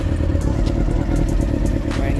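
A CB400 motorcycle engine idles steadily while warming up after a spark plug change. It is close and loud, with a dense, even rumble and a faint ticking clatter.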